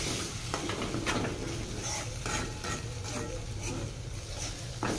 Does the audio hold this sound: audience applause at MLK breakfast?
no